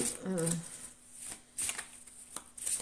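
Tarot cards are shuffled in short, crisp riffling bursts with brief pauses between them, close and fairly quiet, with someone speaking briefly at the start.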